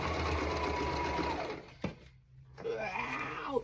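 Sewing machine running steadily while stitching black striped fabric for a pair of pants, a close, continuous motor whir that stops briefly, then resumes.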